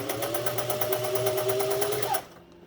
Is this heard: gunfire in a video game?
no